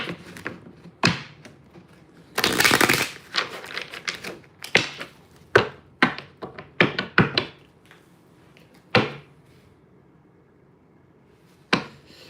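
Tarot cards being shuffled and tapped by hand, heard as irregular close clacks and thumps, with one longer riffling burst early on, followed by scattered single taps and quiet gaps.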